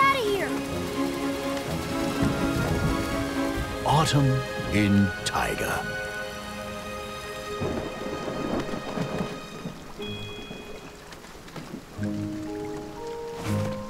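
Steady autumn rain patters throughout, with rumbles of thunder and a voice speaking briefly over the downpour.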